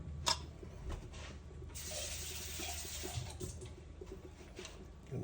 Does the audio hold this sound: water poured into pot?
yes